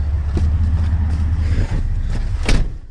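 Chevrolet C1500 long-bed pickup truck driving on a snowy road, a steady low engine rumble with road noise throughout, a few brief knocks and a sharper thump near the end.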